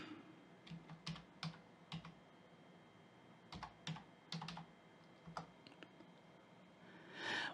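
Someone types a command on a computer keyboard in a quiet room, with separate clusters of close, crisp key clicks and short pauses between bursts.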